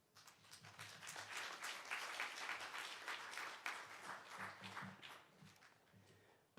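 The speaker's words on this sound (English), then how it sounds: "Let's welcome Dr. Kang with our big applause." An audience at a lecture on church and theology breaks into warm applause, a steady wash of many hands clapping that swells, holds and then thins out.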